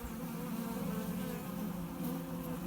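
Honeybees hum inside an opened hive during an inspection, a dense, steady close-up drone of many wings with no voices.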